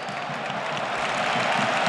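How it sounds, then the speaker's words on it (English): Steady stadium crowd noise with a soft ripple of applause during a Barcelona versus Real Madrid Copa del Rey final, a continuous wash of distant clapping and murmur at even loudness with no clear talk. "And a ripple of applause each time that Pedri ticks along another pass"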